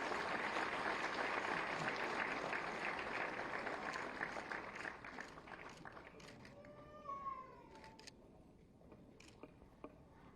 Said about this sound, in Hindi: आप सभी की जोरदार तालियां होनी चाहिए।